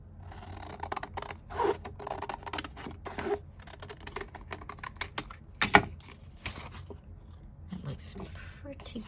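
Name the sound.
scissors cutting paper for a journal cover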